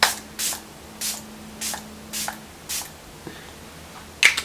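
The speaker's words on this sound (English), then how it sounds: "we're going to do 5 spritz all over the face" A facial mist bottle sprays onto a face in five short, evenly spaced spritzes, each a crisp close hiss, followed by a louder burst of handling noise at the end.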